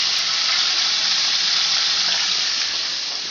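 Chicken frying in a pan gives a steady, loud, close hiss of sizzling oil, constant and broadband throughout, no one speaking.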